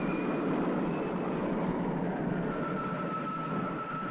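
A steady, dense roar with a faint high whine fills the clip as a spaceship takes off, a continuous even rush without breaks.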